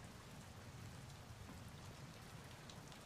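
Recorded rain played through Spotify, a steady, even hiss of drops hitting a surface, soft and continuous with a low rumbling bed, no voices over it.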